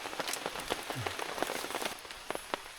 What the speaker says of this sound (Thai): เราก็ต้องคอยดูสถานการณ์ว่าฝนจะหนักขึ้นหรือว่า เบาลง